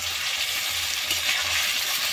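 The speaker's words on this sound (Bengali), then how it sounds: "পেঁয়াজ আলু টমেটো তো একদম সফট সফট করে ভাজা ভাজা হয়ে গেছে।" Onion, potato and tomato fry in ghee for a sea crab curry, an even, steady sizzle at close range with a faint low hum beneath and no voices.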